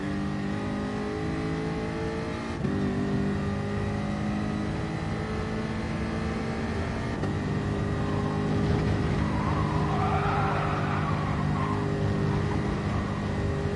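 A Group 4 race car in Gran Turismo pulls hard in first gear at Spa, its engine a loud, continuous droning roar whose pitch climbs steadily with brief shifts in tone along the way.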